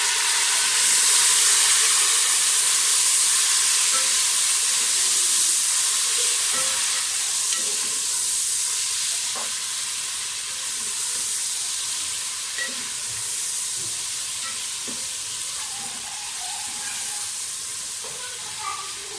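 Tomatoes added to hot ghee with browned onions for chicken biryani fry in a loud, steady sizzle. The hiss gradually eases, and occasional stirring clinks cut through.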